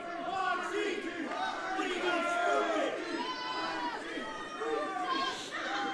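Wrestling crowd at a tag-team match roaring and chanting continuously, a dense hyped-up mass of shouts and cheers with commentators talking over it.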